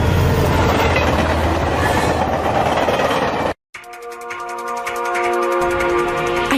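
A train rolls loudly along the rails with steady rumbling clatter, cuts to a brief silence, then returns as rhythmic clickety-clack and ringing metallic tones inside an anime scene where a control valve is malfunctioning.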